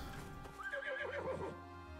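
A horse in the survival game Icarus gives a clear, wavering whinny in the middle of a short stretch of clip-clopping hooves, close and loud with no speech.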